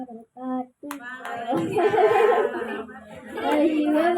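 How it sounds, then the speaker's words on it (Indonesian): Mothers clap for young children at a school performance, a brief burst of applause under chatter and light laughter, with an adult voice speaking over it. "Tepuk tangan dulu bunda-bunda semuanya."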